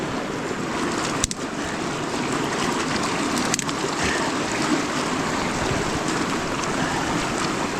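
A river rushes continuously around someone wading across, a broad steady wash of flowing water with a couple of brief knocks and splashes. No one speaks.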